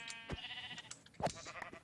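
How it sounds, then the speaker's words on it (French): Sheep in a Minecraft-style video game bleat in a couple of short, quiet calls amid faint game noises. "On tue des moutons au passage"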